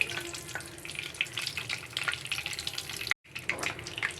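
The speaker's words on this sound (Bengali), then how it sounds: "কিছু দারচিনি আর এলাচ দিয়ে দিলাম তো এগুলো হালকা পরিমাণে একটু ভেজে নেবেন" Cinnamon and cardamom frying in hot oil for semolina halwa, a dense close crackling sizzle with light stirring, briefly cut to silence near the end before resuming.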